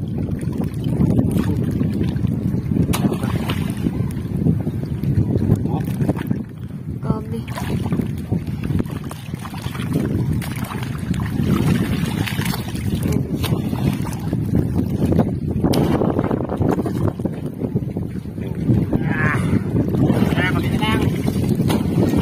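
A boat rides strong waves off Occidental Mindoro, with steady rushing water, sloshing and heavy wind buffeting the microphone, while people talk over the noise.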